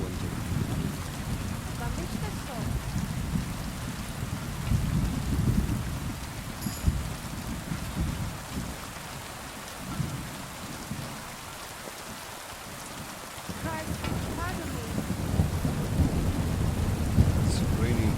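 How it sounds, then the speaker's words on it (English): Heavy rain pours in Kingdom Come Deliverance II, a constant hiss of drops on surfaces with deep, rolling thunder rumbles swelling and fading underneath, broken by a brief lull, and occasional faint voice sounds in the mix. "It's raining cats and dogs, man."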